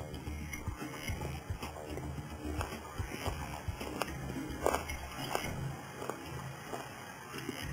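Close, quiet crunching and chewing with scattered crisp bites over a low, steady background.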